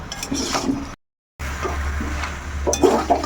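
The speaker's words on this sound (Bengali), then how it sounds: "এখন এই আলুটা দিয়েও আরও একটু আমি কষিয়ে নেব।" Meat and potatoes are being stir-fried for kosha in a pan, with close scraping and stirring over a soft sizzle, briefly cut by a short silent gap.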